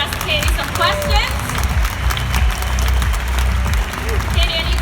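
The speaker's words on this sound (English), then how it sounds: "a big round of applause for everybody who came on stage to ask Katy some questions" Applause from an audience at a fan festival for people who came on stage, a steady wash of clapping mixed with crowd noise. Voices can be heard over it.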